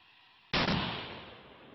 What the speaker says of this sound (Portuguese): Ao fundo, mais um disparo.